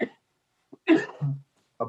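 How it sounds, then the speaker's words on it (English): A few short, throaty cough bursts close by, separated by brief pauses, with a final shorter cough at the end. "That was the cough I warned you about."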